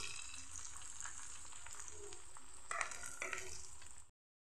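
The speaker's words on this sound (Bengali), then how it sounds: "কিছুটা জল দিয়ে মশলাটা আমি একটু ভেজে নেব।" Ground turmeric, chili, coriander and cumin fry with green chilies and a splash of water in a pan, giving a faint, continuous close sizzle with a few stirring scrapes before it cuts off.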